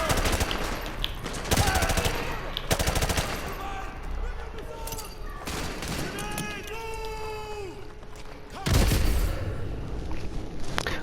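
Bursts of automatic gunfire and battle noise in Call of Duty Modern Warfare 2, loud rapid shots in clusters with a heavier blast near the end, while voices talk over the action.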